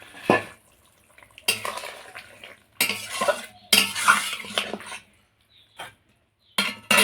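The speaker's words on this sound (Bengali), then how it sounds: "এবারে ঢাকনাটা খুলছি।" A metal lid is lifted off a cooking pot of simmering vegetarian curry with potatoes, giving several short clattering, scraping metallic bursts separated by pauses, fairly close and clear with no talking.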